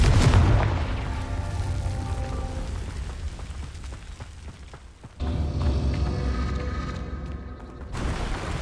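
A Confringo fire spell explodes in the Hogwarts Legacy video game, opening with a loud booming blast that decays into a rumbling, crackling tail, followed by a second surge of dense noise midway.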